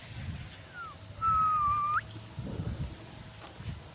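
A person whistles one short, clear note that holds steady and then flicks upward at the end, preceded by a faint brief chirp, over low background rumble.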